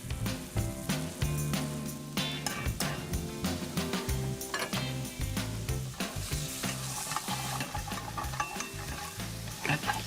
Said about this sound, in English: Followed by ginger, stirring everything together.